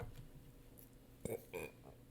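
A short, low burp, quiet and close, over faint background hum.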